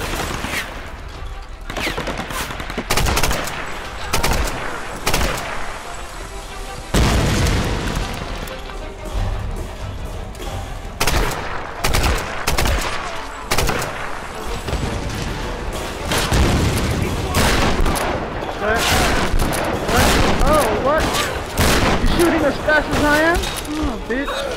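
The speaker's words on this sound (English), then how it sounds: "Why am I shooting?" Rapid gunfire bursts from the PS3 video game Tomb Raider, with sharp repeated shots and booms in irregular clusters throughout, heard under frequent talking.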